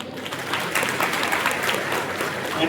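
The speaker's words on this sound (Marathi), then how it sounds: "यानंतर सगळे पुरुष टाळ्या वाजवतील महिलांसाठी," Men in a seated audience at a school felicitation lecture clap for the women, a steady wash of applause that stays even and fairly loud throughout.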